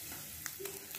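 Mustard seeds, curry leaves, chana dal and urad dal fry in hot oil for a tomato masala chutney, a soft, faint sizzle broken by a couple of sharp pops.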